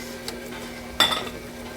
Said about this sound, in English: We're gonna mix that till it's very incorporated.